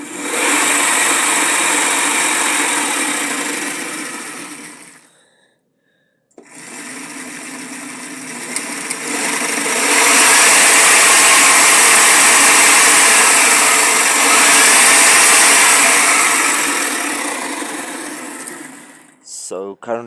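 An alternator converted into a 72-volt electric motorcycle motor whirs steadily, rising in pitch as the throttle opens. It drops out briefly, then spins up again and holds a loud, continuous mechanical hum.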